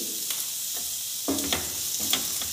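Ground coriander, cumin and salt being stirred into a hot pan while making masala pitha, giving a steady soft sizzle with brief scraping strokes of the spoon, close and moderately loud.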